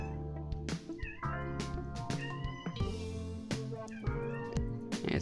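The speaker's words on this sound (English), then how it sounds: "There's a kitty cat talking all over the place." A cat meows repeatedly in short, rising and falling cries close by, one after another with brief gaps over steady background music, loud and insistent throughout.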